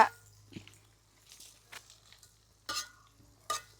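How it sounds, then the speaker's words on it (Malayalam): Ginger frying and being stirred in a pan for a home-cooked ginger curry, with soft sizzling, scraping stir strokes and a few sharper clinks, close and fairly quiet over a low hum. "ഇഞ്ചി വറക്കുവാ"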